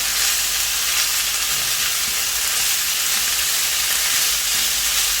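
Chicken frying in a pan over a medium-low gas flame gives a steady, dense sizzle that holds evenly loud for the whole stretch, with no talking.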